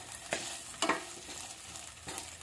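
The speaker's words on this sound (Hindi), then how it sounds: "आलू को मैंने ऐसे छोटे छोटे टुकड़ों में तोड़ लिया है और इसके अंदर डाल करके अच्छे से मिक्स कर लेंगे" Small broken potato pieces are stirred in a pan, giving a soft ongoing sizzle with a few distinct scraping stir strokes spaced across the clip.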